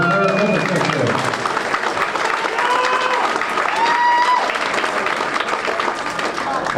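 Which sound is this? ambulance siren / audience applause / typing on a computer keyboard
audience applause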